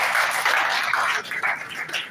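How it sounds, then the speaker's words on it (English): Applause from a summit audience in Anambra State greeting the Commissioner for Education, a dense steady clatter of clapping held for a couple of seconds with no voices over it. "Please, can we give her a round of applause?"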